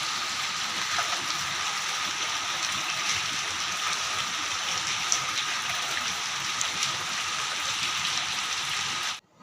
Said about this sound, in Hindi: आप लोग देख रहे हैं बारिश कितनी तेज़ी से हो रही है